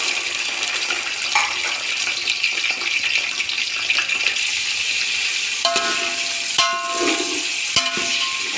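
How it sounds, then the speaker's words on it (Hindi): Chicken pieces added to golden-browned onions in a pot for chicken pulao sizzle and fry steadily, a continuous close hiss with a few stirring clatters toward the end. "अब हम इसमें डालेंगे चिकन।"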